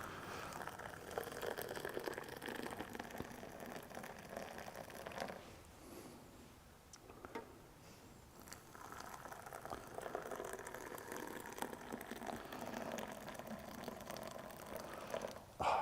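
Water streams down from a height in a long, steady pour, splashing and gurgling into coffee vessels, with a brief lull midway before the flow resumes.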